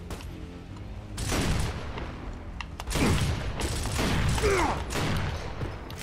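Repeated gunfire bursts in a Gears of War battle, several loud close shots and volleys across a few seconds with a steady din of combat behind them, no voices.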